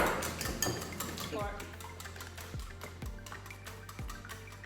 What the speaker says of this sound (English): we're gonna start off stirring these guys up. Give me a good old whisk